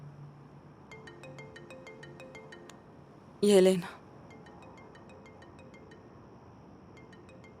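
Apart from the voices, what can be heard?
mobile phone ringing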